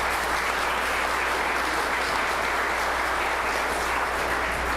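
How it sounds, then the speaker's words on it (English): A church congregation applauding graduates and their families at a Sunday Mass, a dense, steady wash of clapping from many hands filling the room throughout, loud and continuous with no speech. "let's give them a round of applause"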